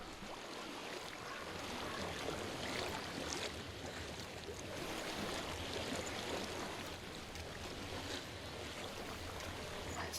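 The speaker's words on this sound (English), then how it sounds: "I hear water." Water flows steadily in the video game Hellblade: Senua's Sacrifice, a constant broadband rush like a stream, moderately loud and unbroken throughout with no speech.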